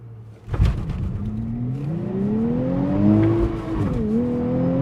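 A twin-turbo Nissan Z engine revs up from inside the car, a low droning tone climbing steadily in pitch as it accelerates, briefly dipping at a shift, then pulling higher again, heard close and fairly loud.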